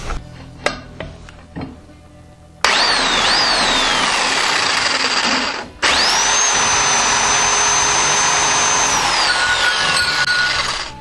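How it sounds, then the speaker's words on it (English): Sawzall reciprocating saw cutting steel pipe for a log hand rail coupling: a few clicks and knocks, then a loud, sustained, close buzzing grind with a rising whine, a brief stop, and more steady cutting. "It's really hard to cut the pipe straight using a Sawzall"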